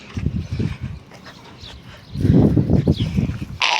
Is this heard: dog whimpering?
yes